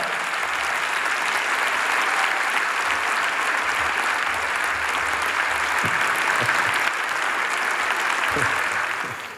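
A large audience at the opening ceremony of the 41st Istanbul Film Festival applauds in a long, steady, dense wave of clapping that holds at an even level throughout before tapering off at the very end.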